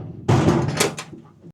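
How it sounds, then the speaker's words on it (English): Side door of a Greenvelly eight-drawer metal rolling tool chest swung shut, one clattering metallic close with a brief rattle that fades over about a second, close and fairly loud with no talking. "And re-secure down the front doors."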